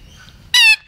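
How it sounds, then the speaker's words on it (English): One loud, harsh parrot squawk bursts out close by, lasting about a quarter second after a near-silent moment. "Brilliant, these birds. Parrots,"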